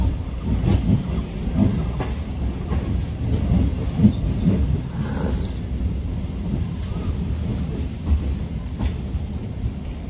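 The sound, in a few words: MEMU passenger train running, Azimganj to Kasimbazar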